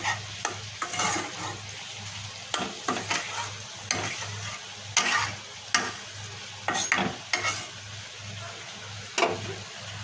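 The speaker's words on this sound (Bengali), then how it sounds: "এখন আমি মাছ কই মাছ ফ্রাই করবো" Koi fish frying in a pan gives a steady close sizzle, punctuated every second or so by sharp scraping knocks of a utensil stirring and turning the fish.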